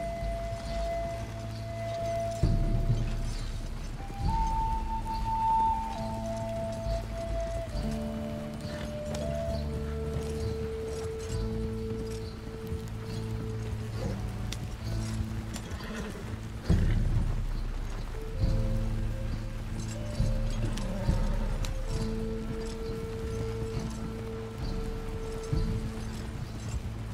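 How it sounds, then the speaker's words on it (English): A horse's hooves clip-clop in Red Dead Redemption 2, a rhythmic thudding under sustained game music and a wash of rain, with no talking. "why not just have my horse following right beside me?"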